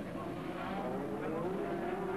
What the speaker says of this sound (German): Der Motor, der Saugmotor, packt fast bei diesem Wetter etwas weicher an